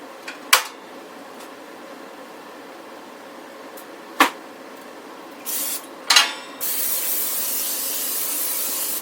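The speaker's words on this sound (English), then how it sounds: "Going to spray my pan with some olive oil spray" Several short bursts of olive oil cooking spray hiss onto a pan, separated by pauses, followed by a longer steady hiss at the end; close and fairly loud.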